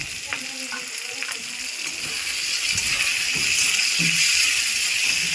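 Tomato and salt frying with taro stems in a pan for a Bengali kochu data dish, giving a steady close sizzle and hiss that builds slightly louder, with faint stirring scrapes underneath.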